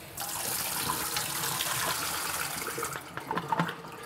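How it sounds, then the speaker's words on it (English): Liquid poured out of a film developing tank, a steady rushing splash for about three seconds that then breaks into a few trickles and drips. "All right, so I'm gonna pour this out."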